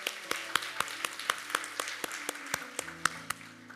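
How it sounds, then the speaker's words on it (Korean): A church congregation claps in a steady, even rhythm during a Sunday worship service. Sharp, regular hand claps sound over a sustained keyboard or organ tone. "우리 하나님께 감사의 박수를 드리겠습니다."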